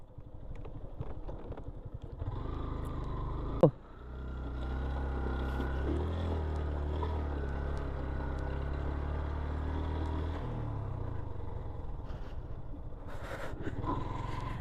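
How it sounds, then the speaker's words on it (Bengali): Boat crossing the Someshwari river, a low steady engine drone running through most of the clip with a sharp knock near the start and fading toward the end, with no speech. "নদীটা ওই যে ওই পারে আমরা হচ্ছে এখন নৌকা দিয়ে পার হব"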